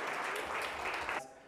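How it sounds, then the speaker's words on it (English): Church audience applauding at a comedy set, a dense steady clatter of many hands that stops abruptly near the end and leaves a faint hum. "Round of applause."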